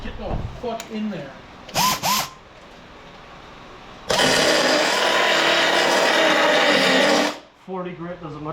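Power sander with 40-grit abrasive grinding on a 1991 Toyota Corolla All-Trac AE95, throwing sparks: a loud, steady broadband roar for about three seconds, bracketed by speech and brief tool bursts before and after.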